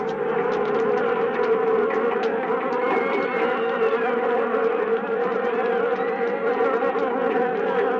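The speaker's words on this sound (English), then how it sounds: "a swarm of killer bees attacked in downtown Rio" Dense, continuous buzzing of a swarm of killer bees (an aggressive honeybee breed) in downtown Rio, steady and loud throughout with many overlapping wingbeat tones and no voices.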